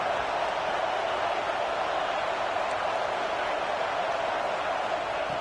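Stadium crowd noise in a football video game: a steady, dense roar that holds at an even level throughout, with no clear peaks or separate cheers.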